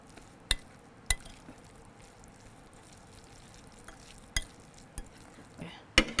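A spoon works through a mango pickle mixture with chili powder in a bowl, giving a soft wet scraping under a quiet background, broken by several sharp knocks and clinks of the utensil against the dish.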